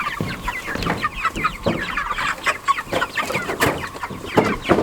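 Cornish cross meat chickens in a chicken tractor, a close, busy flock giving repeated overlapping clucks and short calls with scratchy rustling throughout.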